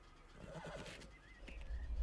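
A horse whinnies in a scene from the British police comedy Hot Fuzz, a wavering neigh rising over a rumbling low-frequency background that grows heavier toward the end.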